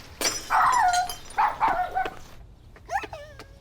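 A dog in an indoor drama scene gives a run of sharp, whining barks and yelps, loud and close, in two bursts separated by a short pause.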